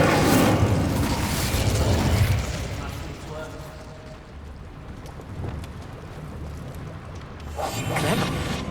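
Spell blasts from Hogwarts Legacy, with Bombarda, Glacius and Incendio cast in quick succession: heavy booming impacts and rumbling crackle, loudest at the start, fading to a softer roar, then a fresh blast near the end, with a voice speaking under the effects.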